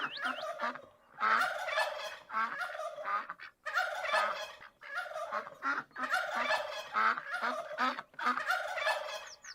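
A turkey at Sundarvan nature park gobbles loudly and close by in repeated rattling bursts that fill nearly the whole stretch, with only brief gaps between calls.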